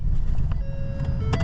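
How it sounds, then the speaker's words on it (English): A thin electronic door-open warning tone beeps inside a vehicle, falsely triggered with doors closed, over a low engine rumble, briefly steady then shifting, with soft clicks around it. "It thinks the doors are open and they're not, and it's beeping at me."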